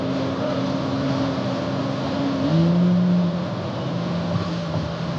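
A car engine in a driving game climbs in pitch as it accelerates while passing a truck, a steady loud drone with a rising tone midway and no speech over it.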